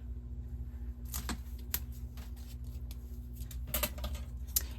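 Scissors cut out a paper craft piece, giving several crisp snipping clicks in short clusters over a low steady room hum, fairly close and with no talking.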